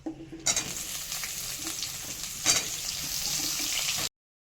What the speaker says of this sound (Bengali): তেলে ফুলকপিগুলো ভেজে নিচ্ছি